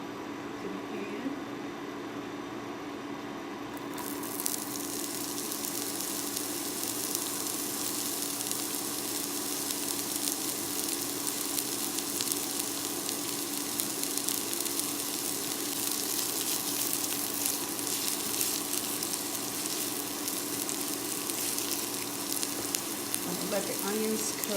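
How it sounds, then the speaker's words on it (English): Onions frying in a pan on medium-high heat for curry chicken, a steady broadband sizzle that jumps up suddenly a few seconds in as they hit the pan, then holds loud and continuous, with a low background hum. "I'm gonna go ahead and add the onions to the pan."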